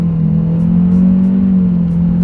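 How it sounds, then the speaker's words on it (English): A turbocharged 2025 Chevrolet Malibu with a CVT pulls up to speed, its engine holding a steady, loud drone with a continuous low hum and faint road whir, no voices. "let's see how quickly we can get our new 2025 Malibu here up to speed"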